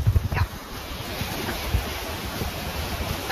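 A creek running high after heavy rain near a house, heard as a steady broadband rush of water mixed with wind, moderately loud and continuous with no talk.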